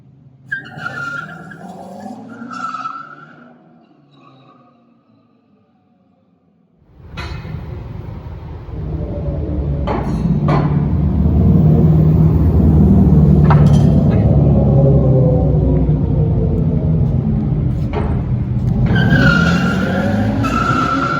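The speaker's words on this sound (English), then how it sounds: "the rumbling that you get from the drag mode really does help, even if it's all artificial" An electric Dodge Charger in drag mode launches with an artificial rumble, a deep, swelling drone that builds after a quiet pause and holds loud, with tire noise and brief squeals over it.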